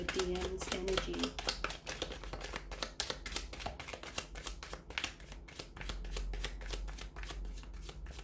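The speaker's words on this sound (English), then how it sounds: "we'll go ahead and give the cards a shuffle" Tarot cards are shuffled up close in a steady run of quick, crisp riffling flutters that continue throughout, with a brief murmur of speech near the start.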